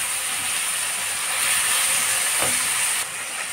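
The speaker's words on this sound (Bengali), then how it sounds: "মাংসটাকে লাল করে ভেজে নিব।" Chicken pieces browning in hot oil in a wok, a continuous close hissing sizzle with a brief scrape of stirring near the end.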